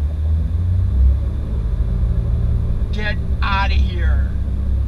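A 2019 Honda Pilot's engine rumbles low and steady as the SUV reverses up a hill, a continuous loud drone with short bursts of people talking over it.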